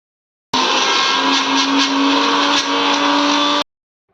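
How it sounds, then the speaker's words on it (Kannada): A mixer grinder coarse-grinds vada batter with no water added, a loud steady whirring motor that starts abruptly, runs for about three seconds with slight wobble, then cuts off sharply. "ಬನ್ನಿ ಇವಾಗ ರುಬ್ಕೊಳ್ಳೋಣ. ನೀರೇನು ಹಾಕ್ಕೊಬಾರ್ದು, ಹಂಗೆ ತರಿ ರುಬ್ಕೊಳ್ಳೋಣ ಇದ"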